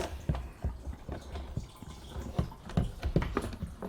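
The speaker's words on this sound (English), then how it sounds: "I've just poured diesel everywhere" Diesel fuel drips and patters onto surfaces while it is drained from a 2002 Renault Master 2.2 dCi, an irregular run of soft close drips and splashes.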